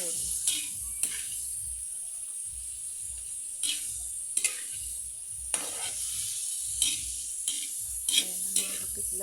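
Bihon rice noodles stirred and fried in a pan at home, a steady sizzle with repeated scraping and clanking strokes of the utensil against the pan at an uneven rhythm.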